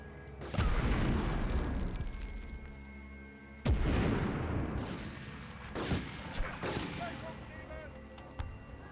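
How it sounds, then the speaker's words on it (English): A grenade in a PlayStation 1 game, with loud blasts and booms, two heavy hits followed by smaller bursts and scattered pops, and someone talking over the action. "Let's toss a grenade."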